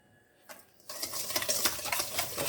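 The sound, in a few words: mixing soft unsalted butter in a bowl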